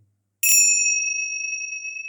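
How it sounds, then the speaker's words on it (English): A single bright bell strikes once and rings on with a long, pure shimmering tone that slowly fades, clear and close. "beautiful bells to actively shift the vibration around me"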